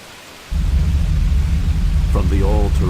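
A storm in the video game Grandia 2 rumbles in with a sudden low, heavy roar of rain and thunder that stays steady and loud, with a voice speaking over it near the end.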